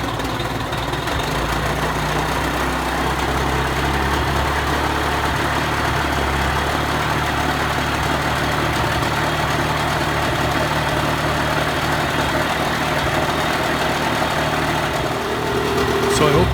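A Mercury outboard motor runs steadily in reverse gear with a loud, continuous, rumbling drone that stays even throughout and shifts slightly near the end.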